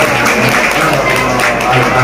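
Brief clapping from the audience at a Maulid Nabi religious gathering, loud and close under a speaking voice and crowd murmur.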